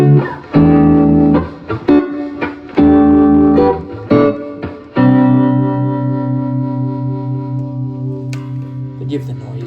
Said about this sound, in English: The tremolo side sounds like this.